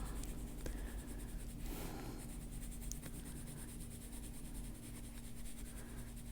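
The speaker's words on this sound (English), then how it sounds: "I'm just going to use the side of the pencil." A colored pencil held on its side shades lightly across a coloring book page, giving a soft continuous scratchy rasp with small strokes and pauses, close and quiet.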